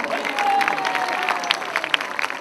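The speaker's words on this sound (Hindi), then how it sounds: "जोरदार तालियां" A hospital auditorium audience claps for a couple celebrating their wedding anniversary, a short burst of moderate crowd applause with a faint tone lingering underneath.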